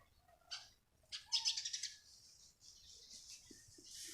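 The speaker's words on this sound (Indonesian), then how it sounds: "Itu burung nih." A bird gives short bursts of high chirps mixed with quick wing flutters, fairly faint and alone with no talking.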